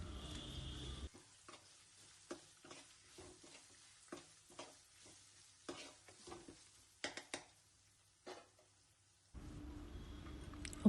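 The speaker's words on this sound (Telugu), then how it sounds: "ఒక 2 రెమ్మల కరివేపాకు వేసుకొని అది మొత్తం ఫ్రై అయ్యే విధంగా కలుపుకోండి" Two sprigs of curry leaves fry in a pan for amaranth curry, quiet crackling and stirring taps spaced through, with louder bursts of sizzle at the start and end.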